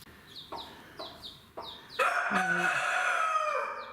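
In a stable, chickens give a run of short, evenly spaced clucks, then a rooster lets out a loud, drawn-out crow close by that fills the rest of the moment.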